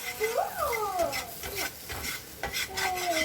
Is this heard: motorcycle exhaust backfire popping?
no